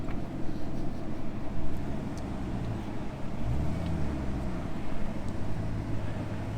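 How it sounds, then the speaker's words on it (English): A Jeep Grand Cherokee crawls off-road in low range without throttle, giving a steady low engine rumble with faint rattles and no voices. "in low for the first time in the Grand Cherokee"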